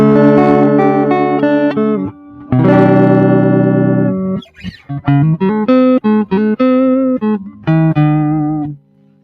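Clean electric guitar playing sustained chords, then a run of short plucked notes and chords, bright and undistorted, played alone with no voices.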